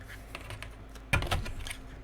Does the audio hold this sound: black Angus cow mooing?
no